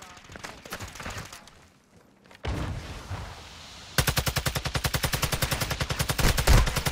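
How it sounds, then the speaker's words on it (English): Rapid automatic gunfire in a shooter game, a loud, evenly spaced burst of shots filling the last three seconds after quieter radio-style talk and a rumble. "Taking effective fire."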